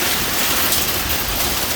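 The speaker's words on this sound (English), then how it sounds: "Nice little hailstorm coming down." Pea-sized hail pouring down outside a porch during a sudden Colorado hailstorm, a dense, continuous roaring patter that stays loud and steady throughout with no voices.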